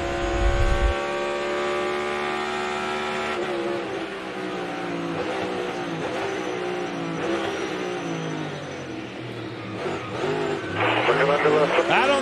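Kyle Busch's NASCAR stock car heard from onboard during a race at Circuit of the Americas, its V8 engine roaring loud and close, revving up through the gears and dropping on downshifts in long sweeping rises and falls, with commentators talking over it.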